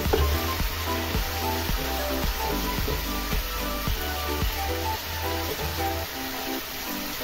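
Bihari chicken sautéing in released oil in a pan, giving a steady, close sizzle with a continuous broad hiss and light rhythmic stirring scrapes throughout.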